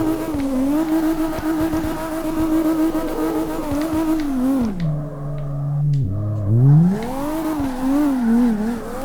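A 900 HP BMW E34 M5 drifts in CarX Drift Racing Online, its engine droning loud and close with wavering revs, dropping low briefly before climbing again, with faint tyre scrub underneath.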